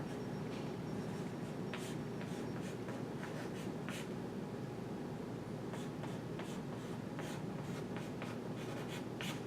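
Marker or chalk writing on a board, a steady series of quick scratchy strokes with brief taps, close and continuous for several seconds with no speech.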